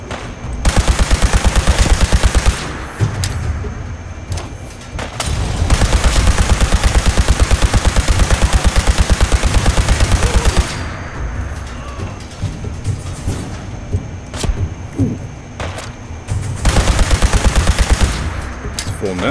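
Rapid laser weapon fire in Fallout 4 combat against a nest of aliens, loud bursts of repeated shots in several clusters, with brief pauses and lighter gunfire between volleys.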